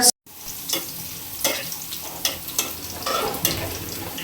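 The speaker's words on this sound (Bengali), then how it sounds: "আমি আমার ডালটা বাগার করে নিয়েছি" Dal being tempered in a hot pan, a steady oily sizzle with occasional stirring scrapes and small bursts of spitting, close and alone with no voices.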